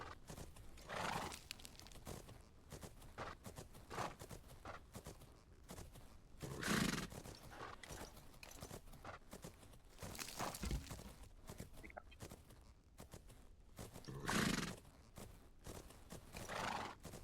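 A video game horse walks with steady, soft clip-clopping hooves and lets out two loud whinnies partway through, with no talking over it.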